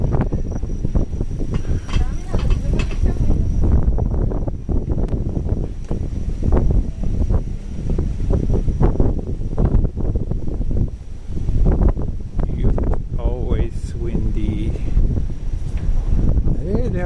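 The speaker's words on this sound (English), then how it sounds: "Yeah, it's really windy." Strong wind buffets the microphone in a steady, rumbling roar that persists throughout, with some low background noise beneath it, on a street in Sakura-shinmachi, Tokyo.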